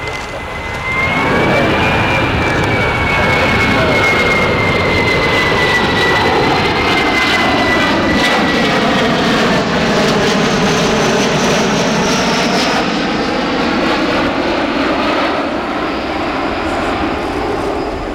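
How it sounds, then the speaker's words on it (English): Embraer C-390 military jet transport in Brazilian Air Force colours making a slow flypast at an air show, a loud, sustained roar with a whining engine tone that slowly sweeps down in pitch as it passes. "This one, giving us a slow pass, is the third one built, which has been involved in the certification and demonstration campaigns for the C-390"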